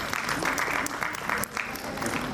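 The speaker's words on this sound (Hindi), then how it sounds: "बहुत जोरदार तालियों से।" Audience at an annual cultural function giving dense, enthusiastic applause that keeps up steadily for the whole stretch, with voices faintly underneath.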